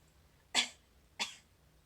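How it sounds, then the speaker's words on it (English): A cartoon flea coughs twice, two short breathy bursts about half a second apart, close and otherwise quiet. "He is coughing."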